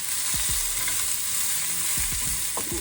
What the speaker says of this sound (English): We allow this to cook for about 2 minutes before adding